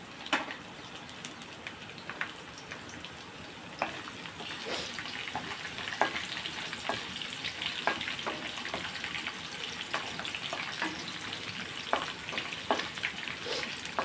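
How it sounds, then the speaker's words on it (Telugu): Chana dal and garlic cloves frying in hot oil in a pan for rice, a continuous soft crackle and sizzle with scattered sharp pops and spoon clicks, close and moderately quiet, with no talk. "ఫస్ట్గా మనం శనగపప్పు వేసుకుందామండి వెల్లుల్లిపాయలు వేసుకుందాం"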